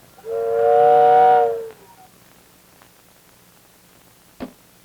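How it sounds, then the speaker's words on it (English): A Ford car factory whistle in Detroit, pulled by cord, sounds one loud sustained blast of about a second and a half, then cuts off into near silence, with a brief knock at the end. "When the whistle blows"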